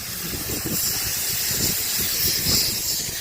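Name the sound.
steam train hissing at WA Railway Museum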